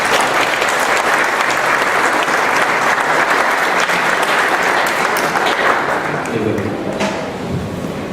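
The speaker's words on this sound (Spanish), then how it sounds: "pido un fuerte y caluroso aplauso" Warm, loud applause fills a hall at a book presentation in Tecámac, a dense continuous clapping that softens slightly near the end as voices emerge.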